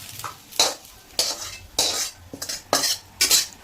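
Cooked Indian-style pasta is scraped and poured from a pan onto a plate, giving a series of loud, close metallic scrapes and soft wet slides in uneven bursts, with no voices.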